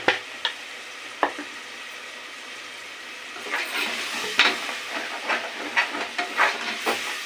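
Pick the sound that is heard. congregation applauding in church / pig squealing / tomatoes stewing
tomatoes stewing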